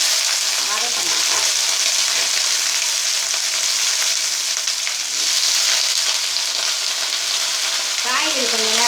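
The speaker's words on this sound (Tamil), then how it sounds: "இதில் வந்து காய்கறியை போட்டு கொஞ்சம் நேரம் வதக்கணும்." Vegetables sautéing in hot oil with curry leaves, a loud continuous sizzle and frying hiss with occasional stirring scrapes, close and steady throughout.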